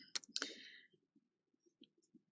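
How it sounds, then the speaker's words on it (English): Diamond painting drills are pressed onto an adhesive paper canvas, giving a few crisp, close clicks at the start, followed by soft, faint taps. "You can kind of hear when it sticks to the paper."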